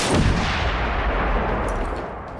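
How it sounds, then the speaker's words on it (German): Explosive defense turrets firing in Generation Zero, a loud dense burst of booming blasts that rolls into a long, fading rumble. "Ich habe ja immerhin ein paar Explosionsgeschütze, welche mir hier ein bisschen helfen."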